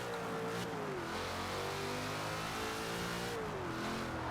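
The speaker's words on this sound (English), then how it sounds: "Let's check out the sound of this car." A Ford Shelby GT500 in Forza Horizon 4 revs its engine, the pitch climbing, dipping and rising again in a loud, steady drone with no talking.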